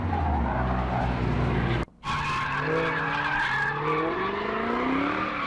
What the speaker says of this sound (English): Here's Bandit with his AMG, his sleeper.